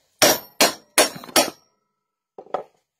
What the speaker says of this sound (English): I'm going to hit the top of my ram until it goes through.